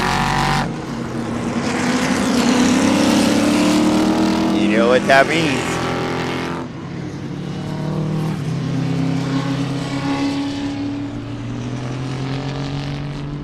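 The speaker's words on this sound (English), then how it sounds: "It is time for the ground pounders. There they go on their pace lap." Race cars on a pace lap at Sebring, a dense, loud rumble of many engines droning together and shifting in pitch as the field rolls past, with a brief spoken remark near the start.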